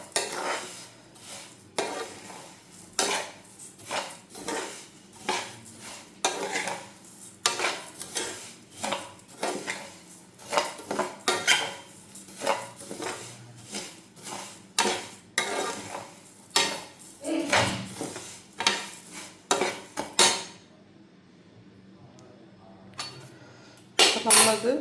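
Vermicelli is stirred and roasted in a pan for semiya upma, a steady series of close scraping and clinking strokes that then pause briefly before stirring resumes.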